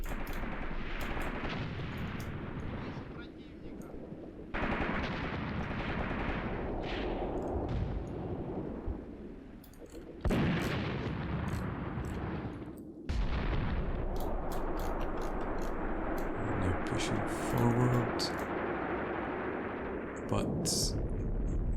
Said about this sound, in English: our T-34 still engaging a machine gun up there